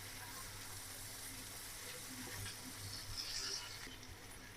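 Fish fries in a pan with onion and green chili, a faint steady sizzle with light crackle, quiet and continuous with no talking.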